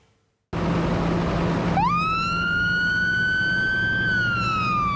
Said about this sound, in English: blue flashing lights from emergency vehicles heading towards them